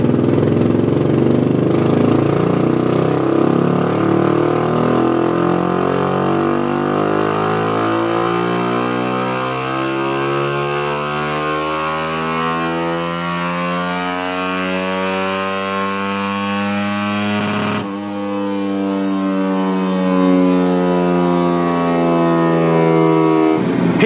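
A road bike converted to a race motorcycle revs hard on a dyno with the exhaust baffle fitted, one loud, sustained engine sweep rising steadily in pitch, then a brief drop and a renewed high roar.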